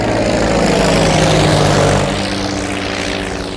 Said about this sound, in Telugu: ఏదేమైనా ఫస్ట్ టైం ప్రైవేట్ ఫ్లైట్ ఎక్కినందుకు చాలా హ్యాపీగా ఉందిరా.